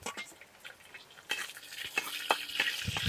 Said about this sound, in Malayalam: കുടമ്പുളി എണ്ണയിൽ ഇട്ടാലുണ്ടല്ലോ നല്ലതുപോലെ വെന്ത് കിട്ടും